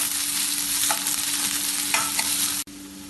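Onion, ginger, garlic and green chilli sautéing in a pan for dal tadka, a dense close sizzle with a few stirring scrapes, ending in a sudden cut.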